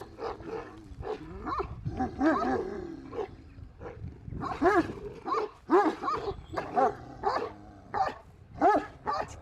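Guregh shepherd dogs in Şanlıurfa bark and bay loudly in repeated bursts, several deep voices overlapping close by.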